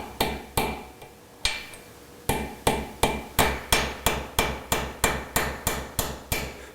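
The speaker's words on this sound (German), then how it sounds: "Und werde jetzt mit dem Hammer das Gold weiter auf den Silberring legen." Hand hammer tapping gold onto a silver ring in a goldsmith's workshop, with a few spaced strikes first, then a steady run of about a dozen sharp, evenly timed metallic blows, close and loud with no talk.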